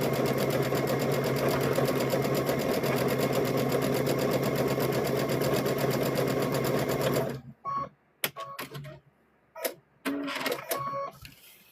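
A sewing machine runs steadily as it stitches a stuffed bear closed, a continuous loud whir that stops partway through, followed by brief handling clicks and short bursts of movement.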